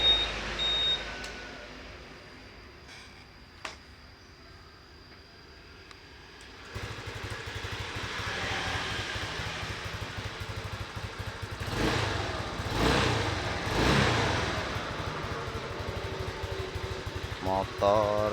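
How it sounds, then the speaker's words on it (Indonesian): Honda PCX 150 scooter, tested for a battery that is not charging, sits quiet with a few clicks and short beeps, then its engine starts and settles into a steady close idle drone while people talk over it. "Kita hidupkan dulu motornya."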